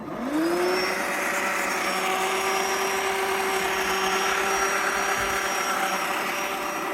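Close, loud, continuous whine of a DeWalt 60V Max self-drive electric lawn mower running steadily, a rising tone at start-up that then holds level throughout, with no talking.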